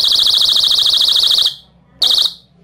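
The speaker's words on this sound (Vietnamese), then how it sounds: "thì chuông ở đây nó sẽ kêu và báo động" An MC06-1 magnetic door-open alarm sounds a loud, shrill, rapidly warbling tone for about a second and a half, stops, then gives another short burst, very close and piercing.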